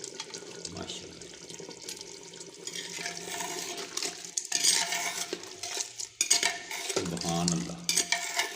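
Meat curry with yogurt, a bhuna gosht, is stirred in a pot, giving wet, slushy scraping and clinks of a spoon on metal that rise and fall in uneven strokes, close by.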